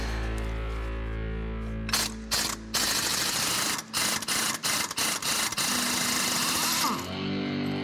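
A special power tool with fresh attachments unscrews massive bolts from an ICE train during maintenance, firing in loud rapid bursts of rattling hammer-like impacts with short pauses between, after a steady mechanical hum.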